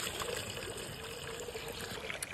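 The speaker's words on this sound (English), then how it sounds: "I'm just filling up this little bucket to fill up one of his waters" Water runs from a tap into a small bucket being filled for a horse's water in a stable, a steady soft trickle and splash continuing throughout, faint and close with no speech.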